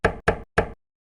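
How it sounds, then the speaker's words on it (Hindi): Three quick, firm knocks land on a house door, evenly spaced and close, with dead silence after them. "अचानक उनके घर का दरवाजा नॉक होता है।"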